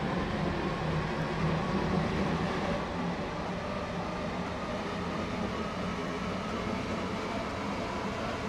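A Stepford Connect passenger train in the Roblox game runs with a steady, loud rumble and rail roar that holds without a break throughout.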